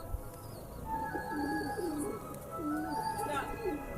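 Racing pigeons coo steadily in a home loft, low rolling calls repeating close by over a soft ambient background.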